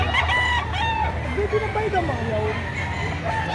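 A rooster crows loudly several times close by, its long harmonic calls rising and falling, with some clucking and faint background voices, at a chicken market in Padre Garcia, Batangas.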